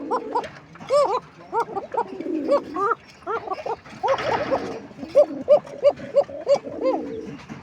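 Domestic pigeons at a nesting pot coo repeatedly in a close, rhythmic series of soft throaty calls, with a brief rustle partway through and no talking.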